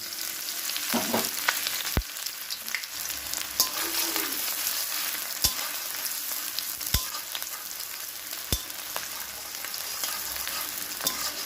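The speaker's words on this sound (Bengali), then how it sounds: "তো পেঁয়াজগুলোকে আমি 2 মিনিট ভাজবো" Chopped onions fry in a pan, a loud continuous sizzle with scattered sharp clicks from stirring utensils, close up and without talk.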